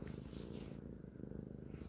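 A pet cat named Brie purrs up close, a steady low rumbling throb that continues evenly throughout without talk.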